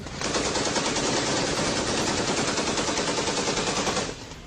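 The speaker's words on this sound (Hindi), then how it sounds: "मशीन गन की आवाज आ रही है" Sustained machine gun fire from fighting in Panjshir at night, a dense, continuous roar of rapid automatic bursts that stays loud for about four seconds and then cuts off, with no voices.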